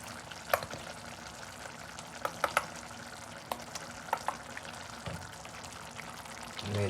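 Cooking oil poured into a pan of keema matar (minced meat with peas) sizzles and crackles steadily, with scattered sharp pops and spatters standing out over a continuous frying hiss.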